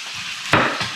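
Lamb shanks searing in a hot pan, a brief loud burst of sizzle rising over a steady frying hiss within a single second.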